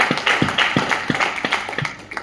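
Audience at a Rajasthani poetry recital clapping in slow, evenly spaced unison beats, about three per second, loud and close with a few scattered extra claps.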